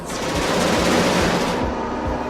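Automated defense turrets on an alien planet in the space shooter Genesis Alpha One fire at attacking aliens in a loud, sustained burst of rapid gunfire with heavy low thumps, close and unbroken by speech.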